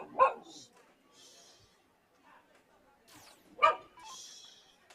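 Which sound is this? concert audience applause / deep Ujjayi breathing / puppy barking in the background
puppy barking in the background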